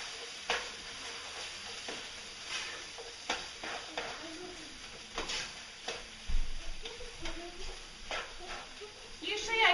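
Vegetables and spinach sizzle in a pan while being stirred, with a continuous frying hiss broken by repeated scraping and knocking strokes of the utensil at an uneven rhythm, fairly close.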